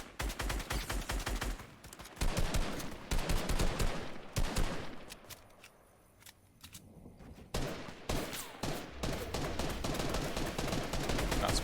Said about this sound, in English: Shots fired, nothing making contact